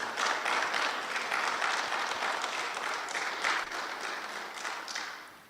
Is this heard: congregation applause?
yes